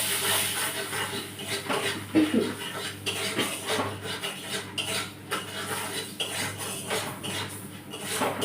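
A metal spoon scrapes and stirs in a pan as turmeric, cumin and chilli powder are sautéed with salt, giving soft repeated rasping strokes and light clinks close by against a faint sizzle.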